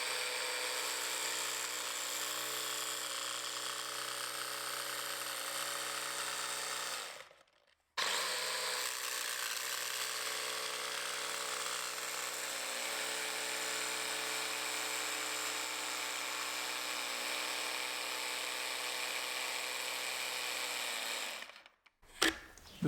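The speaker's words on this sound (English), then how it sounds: "I'm actually really enjoying using the jigsaw again" A Festool Carvex jigsaw cuts through wood, giving a steady, loud, buzzing rasp that runs for several seconds, stops briefly, then runs again in a long even cut before it stops near the end.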